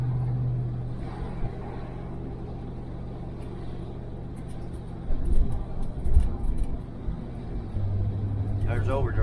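A 1968 Chevelle Nomad cruising in overdrive at low revs gives a low, steady engine drone and road rumble from inside the car, with a voice speaking intermittently over it.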